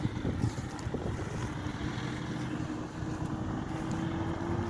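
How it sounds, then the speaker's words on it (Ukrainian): Steady wind roars and buffets the microphone outdoors beside ECOjet sprayers, a continuous blustery rush with low rumbling underneath. "Погода вітряна"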